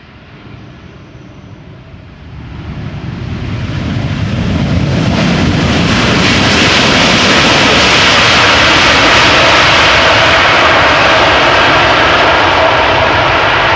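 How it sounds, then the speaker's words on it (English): An airliner landing at Amsterdam Schiphol uses reverse thrust, and the jet engines swell into a loud, sustained roar that builds over several seconds and holds steady, with no talk over it. "That is definitely some nice usage of the reverse thrust."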